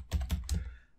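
Three quick, close keystrokes on a computer keyboard while entering a password in MikroTik Winbox, crisp clicks evenly spaced in a quiet room.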